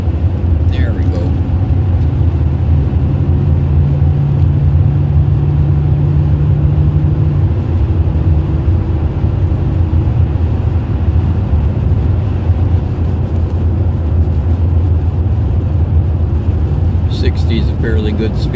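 A car driving at about 45 mph through a thin layer of slush on a snowy Minnesota winter road, with steady loud road and tire roar and a hissing spray under the engine hum.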